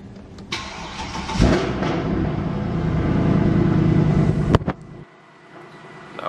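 A Mercedes C63 engine cranks and fires, settling into a loud, rough rumbling idle with a blip and a sharp click before it quiets near the end.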